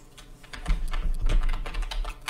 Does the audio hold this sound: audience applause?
no